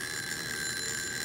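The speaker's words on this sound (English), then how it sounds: "But I will first turn on the bell." An electric bell rings inside a vacuum bell jar with a bright, sustained metallic buzz, steady and unbroken, fairly loud with nothing else heard.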